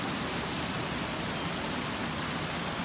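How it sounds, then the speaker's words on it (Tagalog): Antag Falls, a deep waterfall, roars as a steady, dense broadband wash that holds unchanged throughout, with no voices over it. "Yan ang sinasabi nilang Antag Falls."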